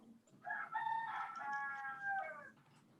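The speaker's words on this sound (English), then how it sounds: "you got yourself a talkative rooster" A talkative backyard rooster, one of a flock of twenty or thirty, crows a long drawn-out cock-a-doodle-doo at moderate distance over a faint low background hum.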